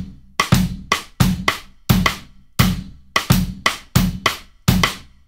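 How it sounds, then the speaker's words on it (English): Drum kit strokes played close up in a sharp, uneven pattern of paired and single hits, each attack decaying quickly, as right hand and bass drum work together on the hi-hat in a polyrhythm practice exercise. "where I feel like I'm lacking is right hand and bass drum together on the hi-hat against this"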